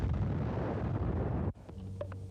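A World War II mortar shell blast gives a dense, loud, rolling roar that holds for about a second and a half, then cuts off sharply into a quieter, hollow aftermath.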